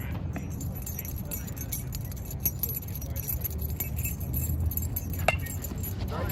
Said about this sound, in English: call it the keys I'm rattling in my right hand